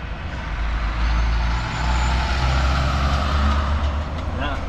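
A heavy truck rumbles past on a road at the Port of Brisbane, its loud low engine drone swelling and easing, with faint voices under the noise.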